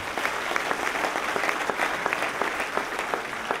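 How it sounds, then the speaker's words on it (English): Audience applause at a county Republican Party Lincoln Day dinner, dense steady clapping from a sizable room, moderately loud and continuous without voices. "give them a round of applause"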